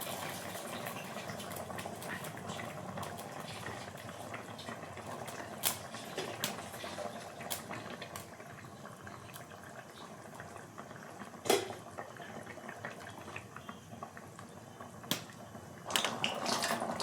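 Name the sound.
curry boiling in pot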